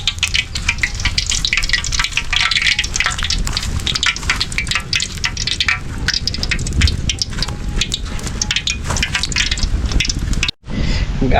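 Egg bondas deep-frying in peanut oil, a dense, steady crackle and hiss of bubbling oil that fills the whole stretch, loud and close, with a brief dropout near the end.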